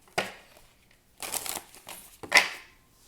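Tarot cards being shuffled and drawn, with several brief papery riffles and slides in separate bursts, close and fairly clear with no talk.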